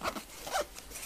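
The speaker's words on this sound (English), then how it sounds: "Close the zipper" A quick zipper pull in two short rasping strokes on a bicycle travel bag, close and fairly quiet, with no talking.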